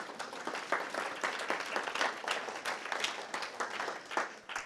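An audience at a menopause event bursts into sustained applause, dense overlapping clapping holding steady for several seconds at moderate loudness with no talk.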